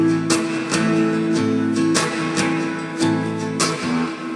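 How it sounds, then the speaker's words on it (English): Acoustic-style guitar strumming an eight-stroke pattern in which one stroke is muted into a percussive chunk, repeating steadily up close with no voice. "we are going to mute the strings on one of the strokes."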